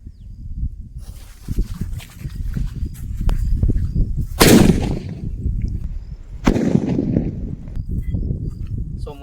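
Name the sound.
Kannan brand Sivakasi firecracker exploding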